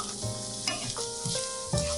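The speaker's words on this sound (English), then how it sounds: "To a heated pan, I'm adding some vegetable oil and then my carrots." Carrots hitting hot vegetable oil in a heated pan, a steady close sizzle and fry with brief stirring clatter, no talking.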